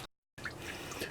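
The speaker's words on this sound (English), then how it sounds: "a lot of water came out. It's in the head, down into my bucket." Coolant water drains out of the head of a Toyota Tercel 4WD engine into a bucket as the thermostat is pulled. After a brief silent gap, a close, continuous splashing trickle follows.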